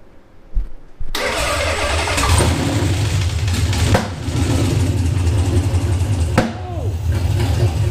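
A Nissan VH45DE V8 cranks briefly, then fires up and settles into a loud, rough idle with a few uneven stumbles and surges. The sound is close and dominates, with no voices.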